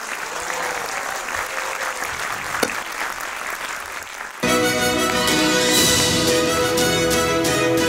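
An award-ceremony audience applauds steadily. Partway through, loud music starts up and plays on over the continuing clapping and crowd noise.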